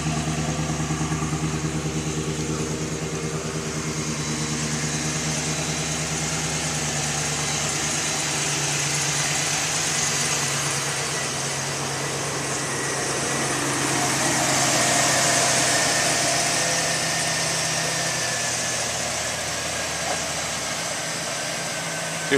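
A GMC Sierra pickup truck's engine idles steadily and close by, a continuous low rumble that swells slightly midway through, with no talking.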